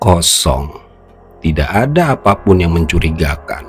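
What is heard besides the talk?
No everyday noise stands out behind the speech.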